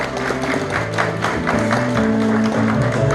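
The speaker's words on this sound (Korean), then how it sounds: "큰 박수 부탁드립니다." Audience applause at an award ceremony for an energy transition forum's first anniversary, with steady dense clapping filling the room for the whole stretch and a faint tonal hum or music underneath.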